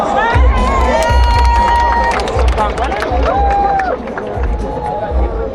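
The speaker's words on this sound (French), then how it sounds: "On peut l'applaudir bien fort." An outdoor park crowd cheers and claps loudly for a dancer, with shouting children and babble over scattered applause and whistles.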